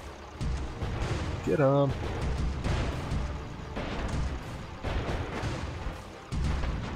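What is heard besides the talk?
deck guns firing in video game Airships: Conquer the Skies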